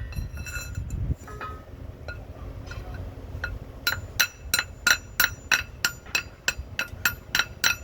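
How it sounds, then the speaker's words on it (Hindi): A car jack is tightened from below, first with low muffled handling and thumps, then a rhythmic run of sharp metallic taps and clinks, close and fairly loud. "ये है जैक और नीचे से टाइट कर लेना इस तरीके से।"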